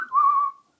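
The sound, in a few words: imitated whistle at a woman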